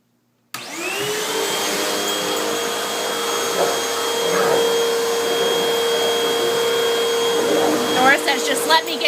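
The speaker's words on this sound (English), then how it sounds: "Ready to vacuum? Okay, here we go." A household vacuum cleaner in a home with Great Danes switches on and runs as a loud, steady motor drone with a high whine, continuing unbroken to the end.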